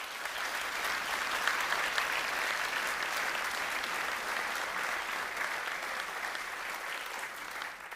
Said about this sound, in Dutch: Mag ik voor deze sprekers een hartelijk applaus?